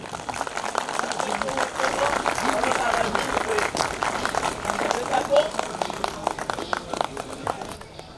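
Audience clapping at a 10th anniversary celebration with about 500 members and guests, a steady spatter of applause for people on stage, running throughout and mixed with voices talking nearby.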